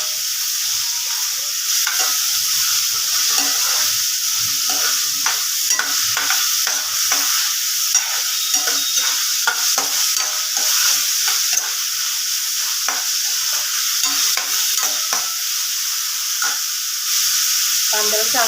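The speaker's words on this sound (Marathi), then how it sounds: "कांदा चांगलं भाजून घ्यायचे आपल्याला" Finely chopped onion sizzles loudly in hot oil with black pepper, cloves, cinnamon and bay leaf, a steady dense frying hiss with occasional stirring scrapes throughout.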